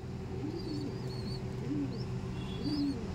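Mature breeding pigeons coo in low, rounded phrases several times at a steady pace, close and clear over a faint background hum.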